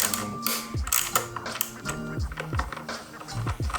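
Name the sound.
wrench ratcheting a bolt on a Kawasaki ZX-10R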